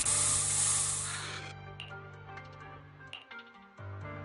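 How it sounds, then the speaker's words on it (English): Special Bangboo spray in the Zenless Zone Zero video game: a loud, close hiss of spraying for about a second and a half that cuts off, followed by faint clicks and soft tonal game sounds. "Here, have a taste of this special Bangboo spray."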